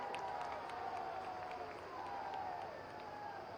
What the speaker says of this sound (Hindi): क्या जोरदार ताली बजनी चाहिए